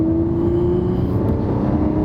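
A Lamborghini engine holds a loud, steady high-rev drone with a strong sustained tone, close and alone with no talk.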